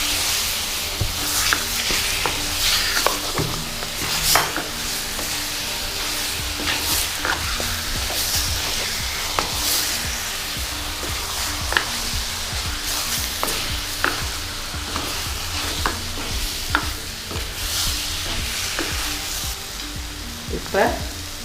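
Chicken pieces frying in a pan for a Sri Lankan-style chicken curry while a ladle stirs them, a steady dense sizzle with repeated scraping clicks of the ladle throughout.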